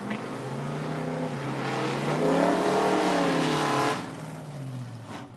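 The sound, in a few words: drag race car launching on nitrous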